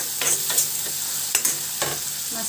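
Small fish, pre-rubbed with salt, turmeric, cumin and chili powder, fry in a pan with softened tomato and browned onion, a soft continuous sizzle broken by a few brisk stirring scrapes.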